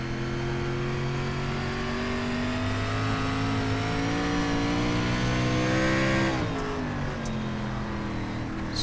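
A race car engine on the Knoxville dirt track in iRacing's SRX series drones loudly and steadily at high revs, with its pitch sliding down briefly as the driver lifts, then settling back into a constant roar.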